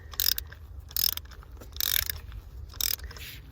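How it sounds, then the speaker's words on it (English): Ratchet tightening spark plugs on a 1998 Volvo S40, four short bursts of rapid clicking spaced about a second apart, close and crisp over a faint low hum. "and then you can use your ratchet"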